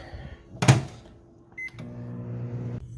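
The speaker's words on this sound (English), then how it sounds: "we're going to pop these chocolate wafer into the microwave for about 30 seconds until they're melted" A microwave oven melting chocolate wafers: a sharp door clunk, a short beep, then a steady low electric hum as it runs for about a second before stopping, close and clear with no talking.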